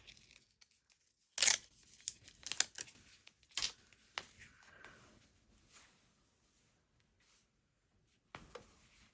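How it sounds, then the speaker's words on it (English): Paper backing is peeled off fusible appliqué pieces for a gingerbread sewing project, making several quick, close tearing and crinkling bursts separated by quiet pauses, with no voices. "Peeling off that back."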